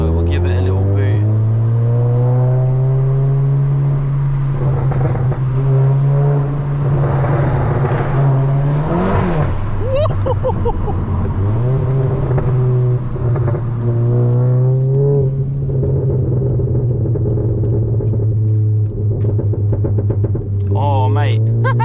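A Volkswagen Golf GTI Mk7.5 pulls hard through a short tunnel. The engine's steady, loud drone swells and holds, with tunnel echo behind it and a brief shift in pitch partway through.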